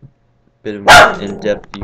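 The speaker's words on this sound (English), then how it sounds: "That was my dog." A pet dog barks once loudly and close, with a short yip following, heard under and between a man's speech in a quiet room.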